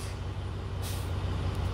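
A school bus's air brakes release a loud hiss of compressed air over the steady low rumble of the idling engine, close by.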